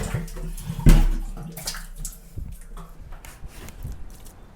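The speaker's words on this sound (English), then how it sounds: "remove all this water and throw it outside" Water is scooped out of a household water tank and tipped away, a heavy splash followed by sloshing, trickling and dripping that gradually quiets, close by with no voices.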